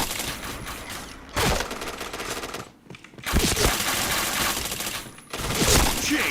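Rapid automatic gunfire from a video game shooter crackles in dense, loud bursts, broken by brief pauses between volleys.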